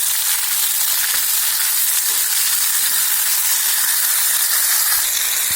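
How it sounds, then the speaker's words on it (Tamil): Tomatoes sauté in a pan for pumpkin kulambu, making a loud, dense, unbroken sizzle with a few faint stirring ticks throughout. "இதை நல்லா வதங்கிட்டுங்க. தக்காளி நல்லா வதங்கிட்டு பாருங்க."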